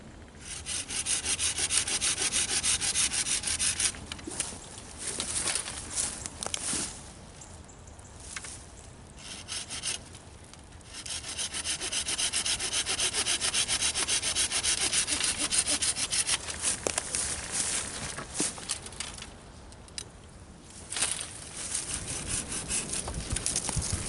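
Hand saw cutting through a green tree branch to make a slingshot fork, with close, rapid back-and-forth rasping strokes that run almost continuously and ease off in a few brief lulls.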